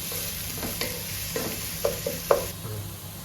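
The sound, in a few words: onions frying in a pan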